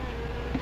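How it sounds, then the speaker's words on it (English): Wasps buzz in a brief burst, a close, steady insect drone with a slight rise near the end, heard alone without voices. "Wasp, you better be careful."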